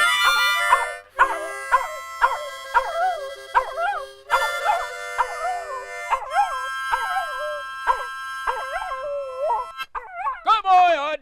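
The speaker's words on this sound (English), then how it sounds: "That's some good howling." A dog howls in a long, musical series of rising and falling wails with short yips between, close and clear, and ends in a cluster of higher whimpering cries.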